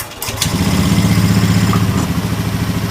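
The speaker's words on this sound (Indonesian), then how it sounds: "Saya hidupkan dulu motornya," A Honda Scoopy scooter with a sputtering, hard-starting fault cranks briefly, then catches and settles into a steady, loud, close-up idle with an even throbbing pulse.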